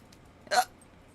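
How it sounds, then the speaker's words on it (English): A single sharp hiccup, close and fairly loud, stands out against a quiet room with no other sound around it. "Friggin' hiccups."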